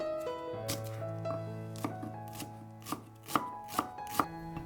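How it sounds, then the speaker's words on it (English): Shallots being minced with a knife for Vietnamese shrimp and pork dumplings, a run of crisp blade taps on a board building to a quicker rhythm, close up over a soft tonal background. "Mince 50 grams of shallots."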